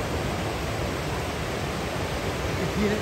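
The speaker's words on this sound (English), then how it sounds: "There we go, another waterfall." Steady broadband rushing roar of Blackwater Falls waterfall, constant and fairly loud, with no pauses, heard from a short distance.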